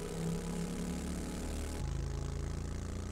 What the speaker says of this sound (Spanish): ¿Tu moto, qué pasa? ¿Que no corre o qué?